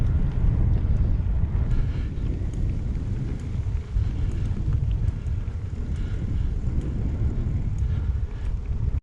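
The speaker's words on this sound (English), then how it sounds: "Oh, beautiful breeze." Breeze during a bike camping trip, steady wind buffeting the microphone in a loud, continuous low rumble with gusty surges, no voices heard.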